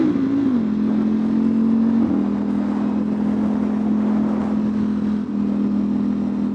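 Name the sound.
modded 2025 Ducati Panigale V4 engine revving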